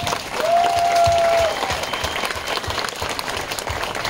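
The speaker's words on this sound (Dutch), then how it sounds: "Geef ze een heel groot applaus alsjeblieft." A crowd applauds loudly and steadily at the opening of the renewed Avalon area at the Toverland theme park. A short, clear whistle rings out over the clapping early on.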